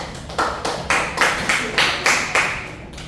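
A classroom of students claps for a classmate in short rhythmic bursts, roughly a dozen sharp claps falling in an even beat, fairly close and with no talking.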